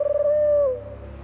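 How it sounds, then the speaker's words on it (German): A cartoon pigeon gives one drawn-out cooing call after a few quick soft flutters, clear and close, then trails off into quiet background hum. "Sieh einer an, die Tauben sind wohl doch nicht so mutig."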